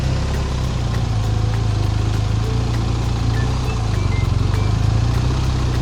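A motorcycle ridden slowly in a tight minimum-radius turn during a beginner riding lesson, its engine running at a low, steady idle-like rumble with a constant even throb and no speech.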